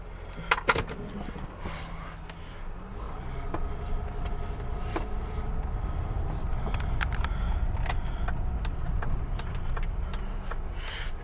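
A 2006 Ford Escape drives and accelerates, its steady engine and road rumble rising after a few sharp clicks and knocks at the start, with low broadband noise filling the rest of the stretch.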